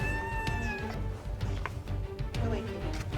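A cat meows indoors, a few drawn-out close cries over a busy background of household noise and faint voices.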